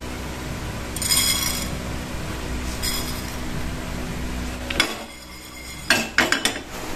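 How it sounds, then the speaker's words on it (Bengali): Leftover rice from the night before stirred in a pot, giving scraping and clinking bursts against the metal, close and moderately loud with quieter gaps in between. "এই যে রাতের ভাতগুলো এই যে মিশিয়ে দেবো"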